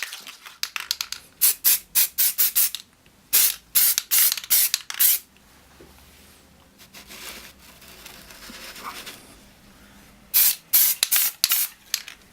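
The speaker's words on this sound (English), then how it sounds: "we will come back and spray it" A spray can of primer hisses in short bursts onto a TARDIS door key prop, several quick sprays in a cluster, a pause, a longer series, then a final volley, close and loud.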